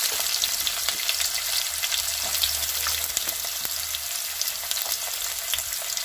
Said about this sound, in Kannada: ಸಾಸಿವೆ ಚಟಪಟ ಅಂದಿದೆ. ನೋಡಿ, ಈಗ ಈರುಳ್ಳಿ ಹಾಕ್ತಾ ಇದ್ದೀನಿ.